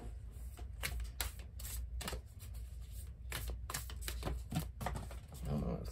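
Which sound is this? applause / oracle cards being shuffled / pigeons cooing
oracle cards being shuffled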